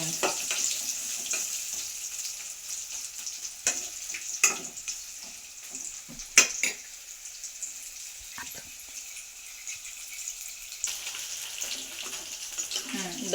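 Ingredients for mango pickle fry in oil until golden, a continuous crackling sizzle with occasional sharper pops, steady and close throughout.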